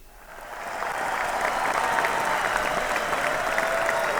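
Studio audience applause on a broadcast variety show, clapping swelling up quickly from quiet and holding as a steady, dense wash of hands for several seconds.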